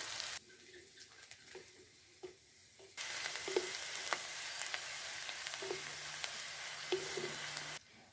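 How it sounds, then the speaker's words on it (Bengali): Chopped onion with bay leaf, cumin seeds and whole garam masala hits hot oil, a quiet scattered crackle that jumps to a steady, louder sizzle partway through, with light stirring clicks and no talking. "তেজপাতা, গোটা জিরে, গোটা গরম মশলা, দিয়ে দিচ্ছি পেঁয়াজ কুচি"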